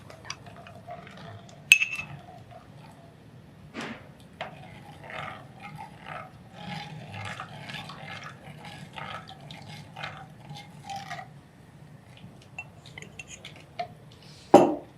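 A thickening mixture stirred in a clay pot, with soft scraping and occasional clinks from the spoon, fairly quiet and steady, with a few sharper knocks.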